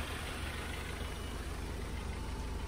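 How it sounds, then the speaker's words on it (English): A 2012 Jeep Patriot's 2.4-liter engine idles with a steady, quiet hum and no revving or voices, a smooth even drone holding constant from start to finish. "Nice quiet engine."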